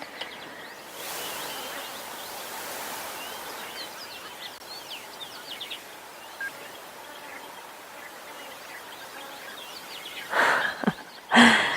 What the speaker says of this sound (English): A lot of insects, a lot of birds.